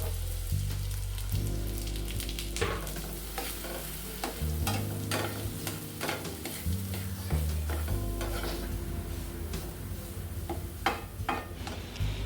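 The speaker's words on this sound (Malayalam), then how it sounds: "അരിഞ്ഞു വെച്ചിരിക്കുന്ന ഏത്തപ്പഴം അതിലേക്ക് ചേർത്ത് നല്ലതുപോലെ ഇളക്കി ഒന്ന് വാട്ടിയെടുക്കണം" Sliced plantain sautés in melted butter in a hot pan, with steady close sizzling and frequent scraping stirs throughout, no voices.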